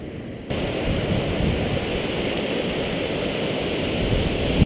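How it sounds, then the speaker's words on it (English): Steady broadband rush of a river flowing beneath rocks on a Cascade Canyon trail near Jenny Lake, churning and hidden, continuous and fairly close, with no voices. "there's essentially a river running under all these rocks here"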